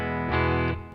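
Electric guitar played through a Tech 21 Fly Rig 5 effects pedal, a single distorted sustained chord about a second long that swells briefly then cuts off, heard alone.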